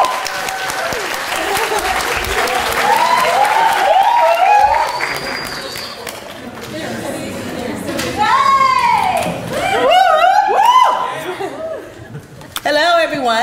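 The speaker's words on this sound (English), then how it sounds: "Please give them a round of applause" Audience applause fills a graduation orientation hall, a sustained wash of clapping with chuckles and laughter rising through it and voices chattering and calling out over the noise.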